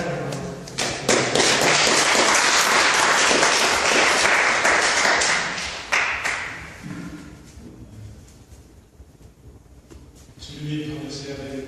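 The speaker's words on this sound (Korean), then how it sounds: "박수로 한번 감사합니다." A church congregation at a Korean church service in Botswana breaks into applause, a dense burst of clapping that lasts several seconds, then fades into quieter scattered sounds and light voices.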